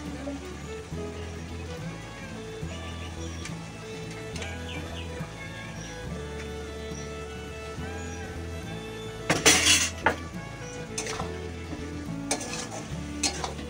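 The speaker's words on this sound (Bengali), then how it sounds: "এবার দিয়ে দিচ্ছি পেঁয়াজ" Chopped onions go into a hot pot of oil for biryani and are stirred, a steady sizzle with scraping stirs and a loud burst of frying partway through; no talking.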